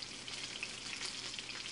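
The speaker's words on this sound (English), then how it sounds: "I'm just more or less frying those up in a little bit of oil" Frozen chicken tenders fry in a little oil in a pan, giving a steady close sizzle and crackle throughout with no talking.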